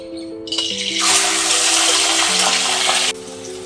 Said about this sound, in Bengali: এবার দিয়ে দিচ্ছি চিংড়ি মাছটা তেলে